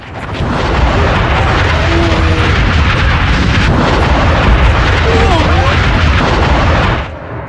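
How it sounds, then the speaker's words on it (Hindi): A large missile strike explosion: a loud, sustained roaring blast rumbles continuously for several seconds, dense and booming, then cuts off abruptly. "जिसके बाद बड़ा धमाका आप देख रहे हैं"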